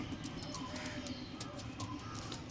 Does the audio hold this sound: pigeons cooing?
yes